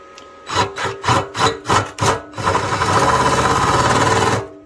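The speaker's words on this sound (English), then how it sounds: "So all I'm going to do is take the drill bit" A drill bit enlarges a hole in metal while an air intake is being built. It is heard up close as several short grinding bursts, followed by a longer steady run of drilling that ends abruptly, with no talking.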